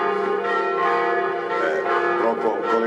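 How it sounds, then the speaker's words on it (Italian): Church bells peal continuously in Noale, Veneto, Italy, during a festival, in a dense, overlapping wash of ringing tones, fairly loud and steady throughout with no talking. "questo felice scampanio. hanno diritto anche loro, le campane."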